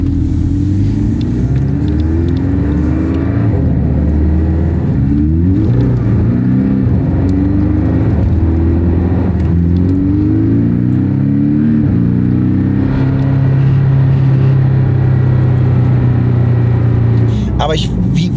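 A Porsche 718 Cayman S on new tyres with KW V3 coilovers drives around the block, its engine droning steadily with rising and falling revs and a deep rumble, close and loud, while people talk inside the car.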